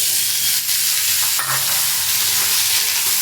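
Potatoes with a green chili sizzle in hot oil in a pan, a steady loud hiss broken by occasional scrapes of stirring.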